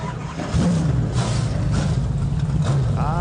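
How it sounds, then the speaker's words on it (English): Whelen Modified Tour race car engines start up together and build into a loud, continuous, rumbling roar of several motors at a short-track oval race, with revs rising and falling. "Gentlemen, start your engines."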